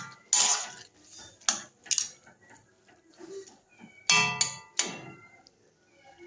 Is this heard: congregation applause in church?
no